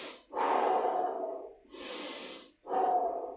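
Deep, forceful breaths during a cobra pose in an abdominal core workout, three long audible inhale-exhale cycles close to the microphone with no talking.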